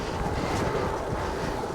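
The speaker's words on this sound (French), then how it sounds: "Ah, le vent," Strong wind gusts buffet a cyclist riding over hilltops, a steady loud roar of broadband wind noise across the microphone with no pauses.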